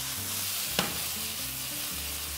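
Linguine hitting a hot pan with oil, a steady bright sizzle with a brief sharp clatter as the pasta goes in, stirred and frying without any voices.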